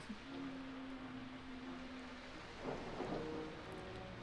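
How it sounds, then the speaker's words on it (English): Rain falls steadily in Jurassic Park: Operation Genesis, a faint continuous wash with a low, brief rumble of thunder rolling through partway along and a hum beneath, no talking. "So you got a thunderstorm, then standard rain, then another thunderstorm."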